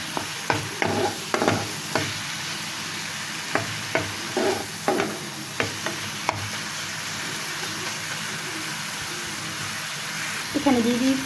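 Soybean oil fries in a pan with a steady close sizzle, and a utensil knocks against the pan in repeated taps through the first half while a voice speaks briefly near the end.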